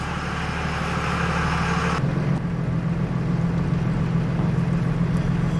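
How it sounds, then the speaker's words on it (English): A 2000 Dodge Ram 5.9L truck driving on the road, heard from inside the cab as a steady loud engine and road rumble with broadband noise that shifts slightly partway through. "So we are driving right now"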